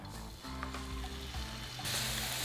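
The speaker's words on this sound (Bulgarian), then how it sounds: "В тигана слагам малко мазнина и мога да започна печенето на месото" Chicken meat sizzling in a little fat in a frying pan, a steady close crackle that grows louder and brighter toward the end, with no talk.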